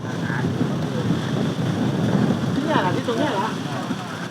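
Strong wind gusts roar across an open kite field in Thailand, a steady loud broadband rush buffeting the microphone throughout, with faint distant voices underneath.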